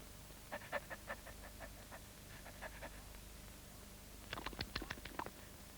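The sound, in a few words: cartoon dog panting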